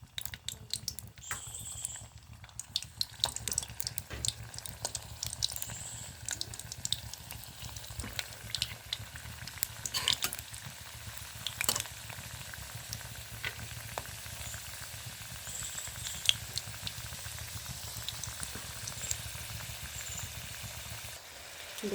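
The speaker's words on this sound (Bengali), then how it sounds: "এবার সিঙ্গারাগুলো আমি ছেড়ে দেবো।" Samosas fry in a small amount of hot oil, giving a continuous crackling sizzle with scattered pops and spatters, fairly close and moderately quiet, running on steadily without any talk.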